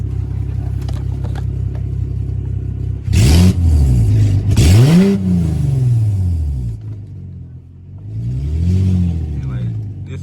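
A BMW E90 with an N52 engine fitted with cheap aftermarket headers idles with a steady low drone, then revs sharply twice in quick succession, settles back to idle and gives one more gentler rev, loud and close.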